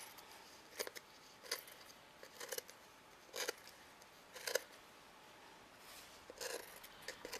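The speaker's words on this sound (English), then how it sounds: "all I'm going to do is basically just cut that" Scissors cutting through glued fabric on a shabby chic pin cushion: quiet, close, crisp snips repeated about every second in a steady rhythm, with no talking.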